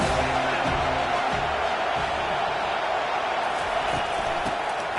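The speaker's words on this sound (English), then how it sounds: "This crowd knows this defense needs them right now." A stadium crowd at a USC college football game roars in a dense, constant wash of cheering while a commentator talks over it.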